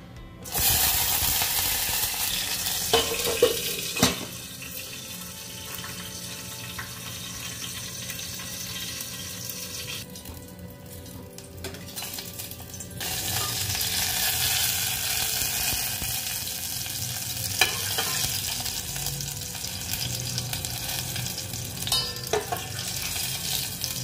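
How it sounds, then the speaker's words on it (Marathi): Green chilies fry in hot oil in a home kitchen, a steady close sizzle running the whole time, with a few faint knocks and clinks along the way and no voices. "आता आधी आपण मिरच्या फ्राय करून घेऊ"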